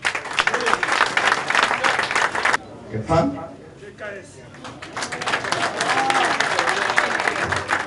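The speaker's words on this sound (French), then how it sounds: "Je vais demander au président des applaudissements." Audience applause at a party school launch event, loud dense clapping that breaks off briefly while a speaker talks, then resumes strongly and continues to the end.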